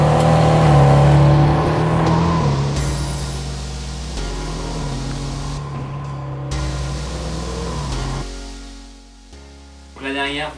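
A Ferrari 430 Scuderia or 550 Maranello engine runs loud and close with rising and falling revs and shifting tones, under a talking voice.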